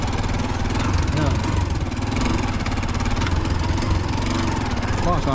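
A tricycle motorcycle engine idles in a steady, loud mid-pitched chug that runs unbroken throughout.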